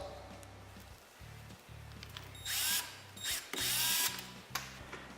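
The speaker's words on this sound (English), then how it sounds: "we use a Milwaukee drill with a number 16 setting" Milwaukee M12 cordless drill fastening a 1143 hub onto a containment coulter or tillage arm, several short bursts of whirring motor with a ratcheting clutch, close and fairly loud, with brief pauses between runs.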